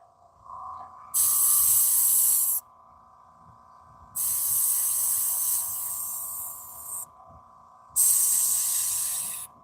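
An airbrush sprays in three separate bursts of steady hiss, each lasting about one to two seconds, with quiet pauses between them over a faint background tone.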